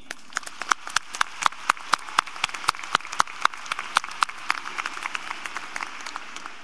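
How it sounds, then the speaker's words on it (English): Applause for the piper at a 2015 high school graduation ceremony, a modest scattering of individual claps in the hall, distinct separate hits rather than a roaring crowd, steady through the whole stretch. "I would like to recognize with a round of applause our piper for this evening"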